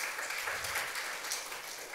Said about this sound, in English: we're going to clap. Everybody just clap.